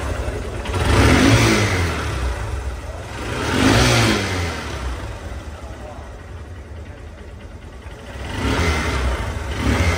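A Honda SP Shine motorcycle with a CBS brake, in showroom-condition engine, revving up three times in loud swells from a steady idle, heard close up and alone.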